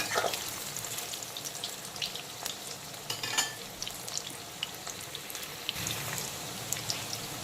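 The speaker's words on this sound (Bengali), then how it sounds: "শোলা কচুগুলো যতক্ষণে ভাজা হচ্ছে" Taro (shola kochu) pieces fry in hot oil with a steady, close crackling sizzle and scattered sharp pops, heard on their own with no talking.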